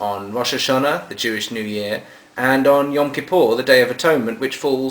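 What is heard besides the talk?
No everyday noises stand out.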